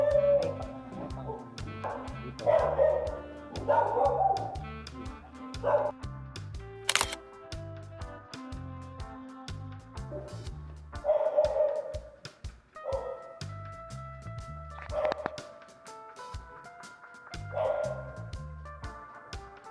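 Dogs at a bagoong factory bark and yip sporadically in short close bursts throughout, mixed with steady background noise and other sounds, with no clear talk over them.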